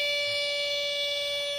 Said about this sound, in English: look, I got your alarm clock.